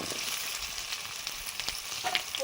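Taro pieces fry in a pan with whole spices for a sour fish dish, giving a close, continuous sizzling hiss with faint stirring clicks throughout.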